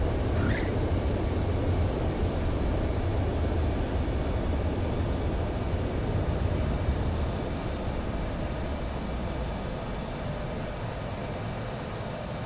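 A jet aircraft coming in to land in Ace Combat 7, a loud, continuous broadband engine roar and rumble that holds steady and eases slightly toward the end, with no talk.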